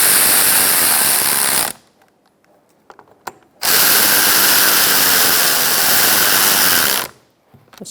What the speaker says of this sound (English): I'm going to snug these up and torque them to 62 inch-pounds